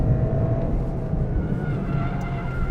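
A 2023 Toyota GR Corolla GTS engine revs hard while driving on a test drive, a steady loud drone with rising harmonics and tyre noise throughout, no voices over it.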